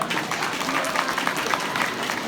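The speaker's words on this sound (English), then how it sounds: "Let's give them a huge round of applause" Crowd applauding the sponsors and organizers at a community event, a short, steady wash of clapping with a few louder individual claps.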